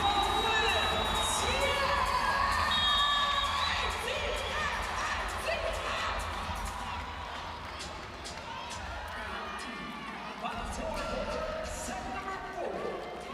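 A home crowd cheers at a professional women's volleyball match in Atlanta, a loud sustained roar with shouts and whoops that gradually eases to a lively murmur as a commentator talks over it.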